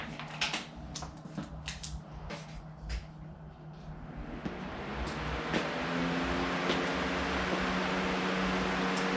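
A fan in a motorcycle workshop starts up after a few scattered clicks and knocks. Its airy whoosh builds and then holds steady and fairly loud to the end.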